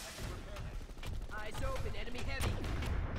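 Dual Mattock shotguns blast repeatedly in a PlanetSide 2 battle at Pale Canyon Chemical, a rapid scatter of sharp shots mixed with other gunfire, with a commentator talking over the action.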